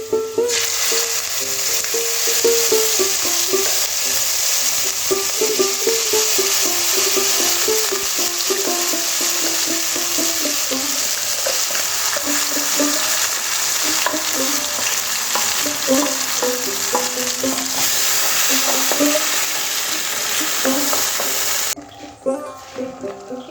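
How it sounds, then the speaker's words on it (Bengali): Potatoes frying in a pan with a spice paste for restaurant-style egg curry, a dense, steady sizzle with stirring scrapes running loudly throughout, cutting off near the end. "এবার আলুগুলো দিয়ে দেব। এবার যে পেস্টটা করেছিলাম ওইটা দিয়ে দেব।"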